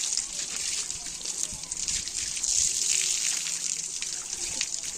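Water pours onto flowering garden plants during evening watering in summer, a steady close trickling and splashing hiss that runs throughout.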